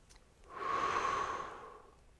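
A single slow, deep in-breath during qigong practice, swelling gradually as air is drawn in through the nose and fading smoothly at the end, close and intimate.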